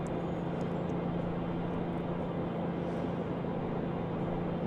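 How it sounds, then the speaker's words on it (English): Light aircraft engine in flight on an IFR trip to Monterey, California: a steady, continuous cabin drone with a low hum, unchanging throughout and with no voices. "how's that sound right now on the engine there, Lon?"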